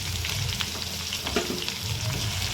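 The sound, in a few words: onions and green chillies frying in a pan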